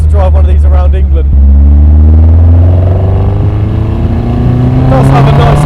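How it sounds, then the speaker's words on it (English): A Ford Pinto-powered Indy Classic engine with individual throttle bodies rumbles loudly up close, with a deep, throaty exhaust note that rises steadily in pitch as it accelerates. "It does have a nice exhaust note."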